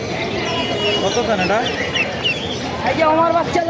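Chickens cluck and cackle in a busy, crowded bird market in Mirpur, several birds overlapping with murmuring voices and general market bustle around them, with pigeons, ducks and cockatiels also on sale.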